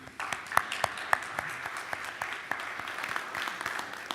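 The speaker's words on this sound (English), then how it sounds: "Give a round of applause for all our speakers." An audience at a policy breakout session applauds for the speakers, a steady patter of many hands clapping from a modest crowd, moderately close and continuous, with a few sharper individual claps standing out.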